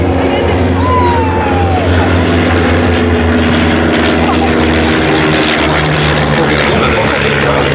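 Propeller training aircraft flying at the Midland Air Festival, a loud, steady engine drone with a sweeping pitch change, heard over continuous crowd and commentary talk.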